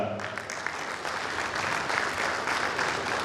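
Loud, sustained audience applause at an event in a hall as a college guest takes a seat on stage, thick clapping from many people continuing throughout with no one speaking over it.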